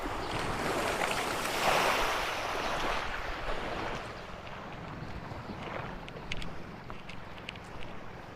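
Sea waves at a beach in Siargao: continuous washing surf with gusty wind buffeting the microphone, loudest early and then settling into a softer steady wash, with no talking.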